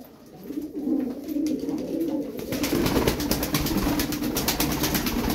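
Several pigeons in a flock of about ten coo in a low, continuous drone, growing busier with fluttering and scuffling noise in the second half.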